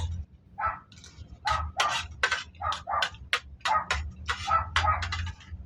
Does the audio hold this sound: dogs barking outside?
yes